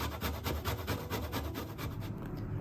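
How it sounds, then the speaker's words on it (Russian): Orange or lemon zest grated on a fine grater while making cinnabon dough: steady, rhythmic rasping strokes, close and fairly loud, repeating evenly throughout without speech. "На мелкой терке натираем цедру одного апельсина, либо лимона, только оранжевую часть."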